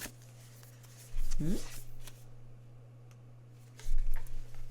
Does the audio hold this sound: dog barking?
no